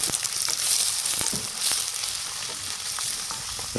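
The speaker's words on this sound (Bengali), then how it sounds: "তেলটা গরম হয়ে গেছে ওর মধ্যে আমি এবার পেঁয়াজগুলোকে দিয়ে ভাজা করে নেবো" Steady crackling sizzle of onions frying in hot oil, with scattered sharp pops over a continuous hiss, close and fairly loud.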